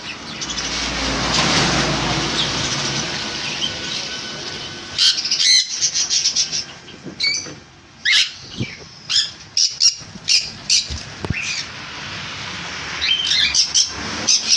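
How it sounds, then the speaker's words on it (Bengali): Cage birds in a bird shop, among them black cockatiels, conures and lovebirds, let out sharp repeated squawks and chirps in quick irregular bursts over a hissy background, with no speech. "বন্ধুরা এই পাখিগুলো আমার দোকানেতে আছে"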